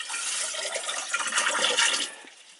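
Water pours steadily from a watering can into a reservoir of some 15 to 20 litres, a continuous splashing trickle that stays close and fairly even before easing off near the end, with no talk.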